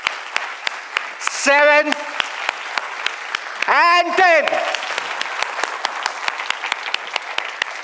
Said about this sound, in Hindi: So ये मेरा तरीका था आप लोगों से ताली बजवाने का